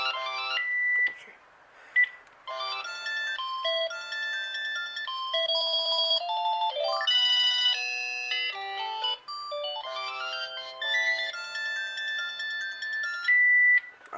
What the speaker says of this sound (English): I'm gonna put this ringtone.